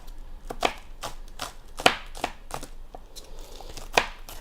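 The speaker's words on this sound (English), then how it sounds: "It's a versatile knife. You can cut a lot of things with it." A knife chops green onion on a cutting board, giving a steady run of sharp, close taps, roughly one every half second, with a couple of louder strikes and no talking.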